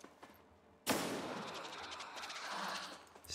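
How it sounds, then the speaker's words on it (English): A pistol shot in XCOM 2 cracks sharply after a brief quiet lead-in, followed by a long booming reverberant tail with rumbling game effects. "Pistol, just bap him in the head."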